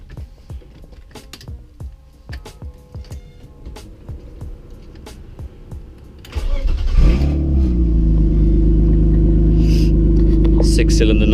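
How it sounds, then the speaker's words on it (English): A six-cylinder car fitted with a new exhaust, first ticking and clicking quietly with voices, then the engine fires and settles into a loud, steady, deep idle drone close by. "Six-cylinder noises."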